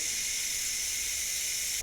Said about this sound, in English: releasing the steam after 1 hour